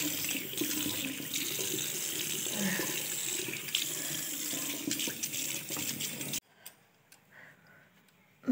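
Tap water runs steadily into a sink to rinse off soap powder after scrubbing, a continuous splashing wash that cuts off abruptly, leaving a quieter stretch with faint small clinks and a final bump.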